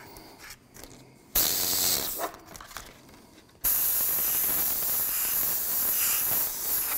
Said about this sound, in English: you spray what I call dry spraying